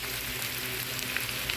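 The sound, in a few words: onion and garlic frying in oil in a frying pan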